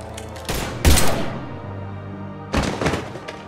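Gunfire from the Mass Effect 3 video game comes in two loud, dense bursts of rapid shots, the first longer and heavier, followed after a short lull by a second volley over a low background.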